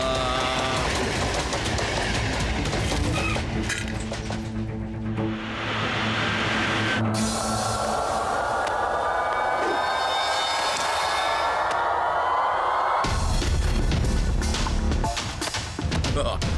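A train rolls by in a Tamil action cartoon, loud and continuous with a rumbling rush and rising clatter, while voices speak over the noise before it cuts off abruptly and another burst of sound follows.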